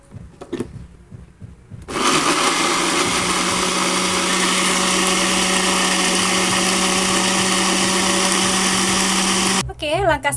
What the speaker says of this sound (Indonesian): Ini langsung aja kita blender.